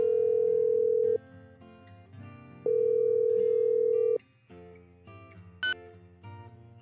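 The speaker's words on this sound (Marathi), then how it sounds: "दरवाजा बंद करत तिने पहिला तिचा मोबाईल हातात घेत सम्राटला फोन लावला." A mobile phone call's ringback tone sounds as two long, steady electronic beeps separated by a pause, over soft background music.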